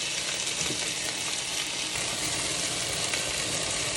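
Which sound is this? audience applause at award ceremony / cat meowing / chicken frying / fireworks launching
chicken frying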